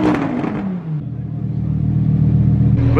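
A Lamborghini engine revs up close and loud, then its pitch sweeps downward and settles into a deep, steady rumbling idle that swells again near the end.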